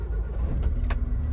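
Someone getting into a car: a few muffled thumps and rustles as a person settles into the seat, followed by short sharp clicks like a door or seatbelt, close and moderately loud.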